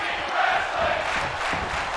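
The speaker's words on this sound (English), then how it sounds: "This crowd chanting for tag team wrestling" A wrestling arena crowd chants at a tag team match, a dense roar of many voices that holds steady at moderate distance throughout, with no clear individual speech.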